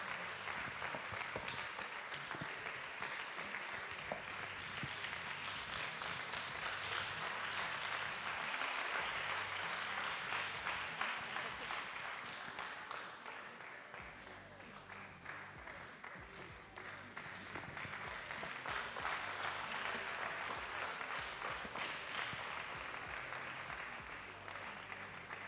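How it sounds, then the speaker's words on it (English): Sustained applause from a large conference audience, steady and loud throughout, dipping briefly in the middle before swelling again. "Please keep clapping until he comes to the stage."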